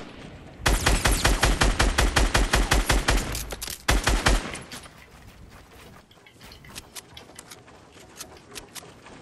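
Gunfire in a duo shooter video game: a loud, rapid automatic burst of evenly spaced shots for several seconds, then scattered, fainter distant shots trailing off.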